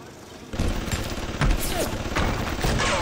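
Automated security turret firing in BioShock, a sustained rattle of rapid gunfire starting abruptly and continuing with heavier bursts, loud and close, with game ambience behind.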